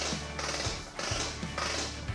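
A heavy-duty retractable extension cord reel whirs and squeaks like a pig oinking in three repeated pulls, each a short burst of rubbing, creaking noise with brief pauses between, close by.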